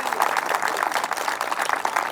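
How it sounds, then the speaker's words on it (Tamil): An audience at an agricultural science programme breaks into steady, sustained applause to welcome the guests, a dense wash of many hands clapping at an even level. "அனைத்து விருந்தினர்களையும் ஒரு பெரிய கைத்தட்டலுடன் அன்புடன் வரவேற்கிறோம்."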